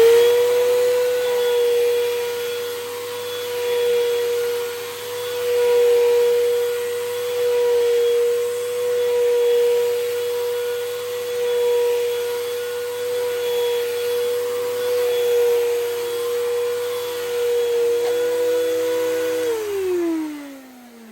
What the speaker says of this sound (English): you can hear how loud this vacuum is